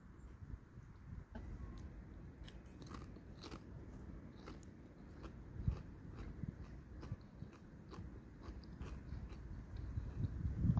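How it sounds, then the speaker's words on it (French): Crunchy potato chips being bitten and chewed close to the mouth, a steady run of crisp cracks and crunches over soft background noise. "Parce que j'avale quelques chips"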